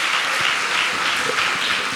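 A congregation claps together during a Sunday church service in Kolkata, a dense, steady burst of applause lasting about two seconds with no voices over it.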